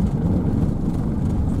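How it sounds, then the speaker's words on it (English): A car driving down the narrow old Route 66 ribbon road between Miami and Narcissa, a steady close engine and road rumble from inside, with no talk. "we're just gonna drive down to the end of this road"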